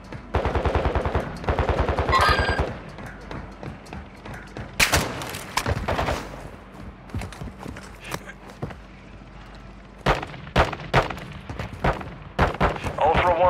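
Bursts of rapid automatic gunfire in Call of Duty: Modern Warfare II, loud and close, broken by pauses and sharp single shots, with game voice callouts heard between the volleys.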